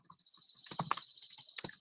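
Keyboard keys clack in short irregular bursts while text is entered into a Google Form, close and fairly quiet, with a faint steady tone running underneath.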